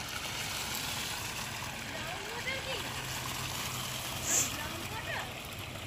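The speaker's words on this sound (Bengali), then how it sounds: "এই দেখো, এখানে জল বেরোচ্ছে। গ্রাউন্ড ওয়াটার লাগছে, ভেতর থেকে প্রেশার উঠেছে।" Groundwater seeping up and flowing out of the ground, a steady close trickle and gurgle of running water under broadband noise, with a brief splashier burst partway through and faint voices.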